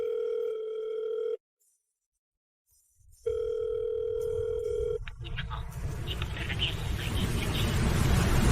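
A telephone dial tone while a call is placed: a steady tone stops for about two seconds, resumes, then gives way to rising noise and voices talking.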